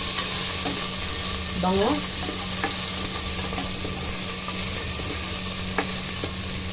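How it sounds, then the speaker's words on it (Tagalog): Ginger drops into hot oil in a pan, giving a loud, constant sizzling hiss that fills the whole stretch, with a brief voice and faint utensil taps partway through. "dahil mainit na yung ating oil, ilagay na natin yung ating ginger."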